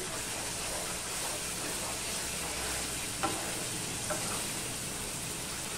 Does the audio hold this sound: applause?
no